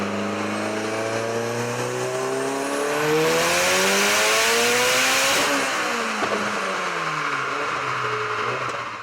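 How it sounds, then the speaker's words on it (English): A tuned Mitsubishi Lancer Evolution X with a large turbo makes a dyno pull, the engine note climbing steadily in pitch and growing louder through the run, then falling back, close and continuous without any talking. "Let's listen to this dyno pull."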